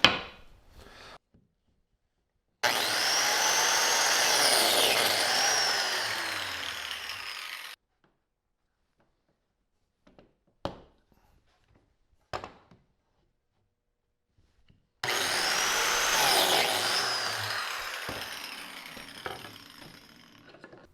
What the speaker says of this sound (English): I have to cut a number 20 biscuit slot in each stile and rail on the miter